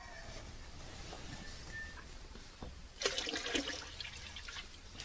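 Cow urine is poured into a water drum while neem leaves are steeped for a natural pesticide, heard as a short outdoor rush and splash of liquid midway through, rising over faint background noise.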